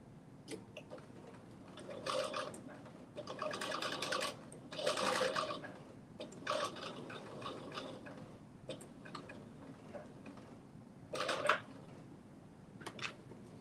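A sewing machine fitted with a walking foot stitches fleece in short, intermittent bursts of rapid mechanical whirring and ticking, separated by quiet pauses, at moderate volume.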